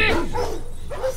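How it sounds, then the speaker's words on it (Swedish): Several dogs bark and then shift into whimpering and yelping, loud and close. The calls overlap in a dense, continuous stretch with no pauses. "Hundarnas skall övergick i kvidande"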